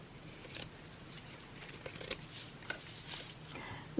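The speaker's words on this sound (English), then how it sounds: "Oops, I did use my good scissors for that." Scissors snip through fabric and lace during a snippet roll craft project, a series of soft, close cuts and rustles at low volume with no talking.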